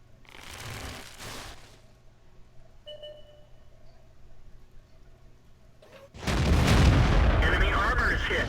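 Panther Tier VII medium tank firing its gun in World of Tanks, a sharp loud boom with rumbling tail near the start, quieter game sounds and faint tones between, then a heavy loud blast and rumble late in the clip.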